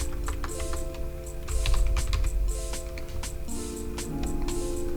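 Fingers type on a computer keyboard in quick irregular bursts of light clicks over a steady background hum, close and moderately loud, with no speech.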